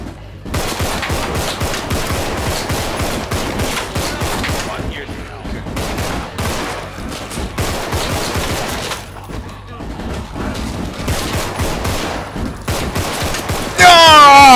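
Rapid bursts of automatic gunfire from the video game Contagion rattle out in repeated volleys with short pauses between them, loud and close, with players talking at times.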